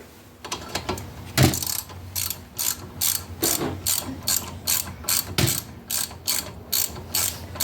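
Ratchet socket wrench turning a bolt during spark plug wire and ABS sensor work, a steady run of sharp pawl clicks in quick rhythmic bursts, close and fairly loud, with no talking.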